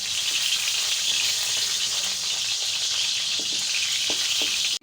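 Meatballs browning in a frying pan, a close, steady sizzle of hot oil with faint crackles and small clinks throughout, ending abruptly.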